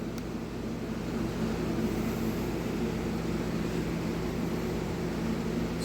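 A shop air filtration box fan with speed control spools up indoors, a steady low hum and airy whoosh rising at the start and then holding constant and fairly quiet.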